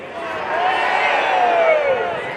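A concert crowd at an outdoor kick-off celebration screams and cheers together in a sustained roar that swells and holds for a couple of seconds, loud and unbroken.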